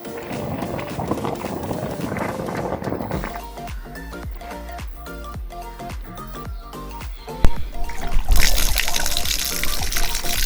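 Water gushes and splashes from the outlet pipe of a new 1 HP Crompton open well submersible pump, a steady pouring stream broken by sputtering bursts of air before a louder rushing surge at the end.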